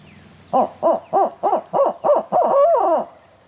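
A hunter imitates a barred owl with a hooting call: seven rhythmic, loud hoots in quick succession ending in a drawn-out descending wail, close to the listener, outdoors in Oklahoma turkey woods with faint background ambience.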